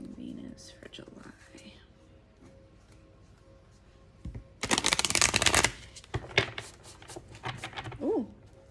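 Tarot cards are shuffled in a dense burst of crisp riffling, with a few cards slipping and dropping afterward in brief soft slaps, while low whispery talk runs before and after.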